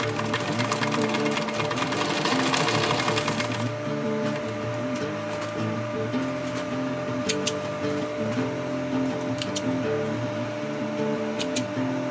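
Sewing machine stitching webbing for an EDC organizer, running in a steady mechanical whir with a brighter burst early on, then a quieter hum with light clicks.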